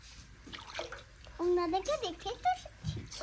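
A little girl bathing in a tub sends water splashing and sloshing in short bursts, with a voice and adult talk mixed in close by.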